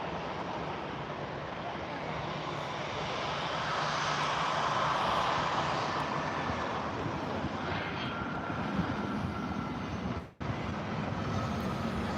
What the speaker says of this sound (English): Lufthansa A320 in from Frankfurt.